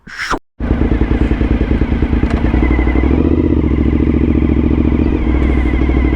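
A Suzuki SV1000S motorcycle revs loudly up close after a brief pause, then settles into a steady, pulsing V-twin engine drone while riding, with a rattly roughness throughout.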